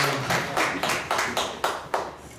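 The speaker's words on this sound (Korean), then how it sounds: "두 번째 박수 부탁드립니다." Audience applause at a meeting, with about eight distinct bursts of clapping in a steady rhythm, moderately close and with no speech over it.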